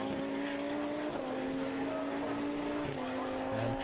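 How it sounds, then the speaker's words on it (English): A GT race car with a puncture cruises at low speed into the pit lane at Silverstone during a Blancpain Endurance Series round, its engine a steady droning hum with a slight pitch dip near the end. "cruising into the pit lane comes the 41 car"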